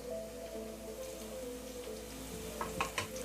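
Chopped onions and eight halved garlic cloves sautéing in oil in a pan for Chettinad fish kulambu, giving a soft, steady low sizzle with a few small crackles near the end.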